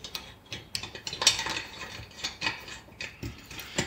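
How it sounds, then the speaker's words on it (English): Ratchet tightening screws on a hydraulic pump reservoir, a quick series of light mechanical clicks in short irregular bursts, close and fairly quiet with no speech. "Torque them up, tighten them down and torque them up evenly."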